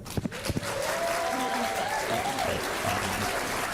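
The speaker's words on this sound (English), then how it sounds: "I want you to give yourselves a round of applause, real quick" An audience at a coaching training event gives a loud, sustained round of applause lasting several seconds, with a few whoops rising above the steady clapping.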